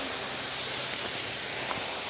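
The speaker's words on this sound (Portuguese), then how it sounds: "Cachoeira." A waterfall seen while crossing a bridge in nature gives a steady, dense rushing roar that fills the clip evenly with no breaks and no voices.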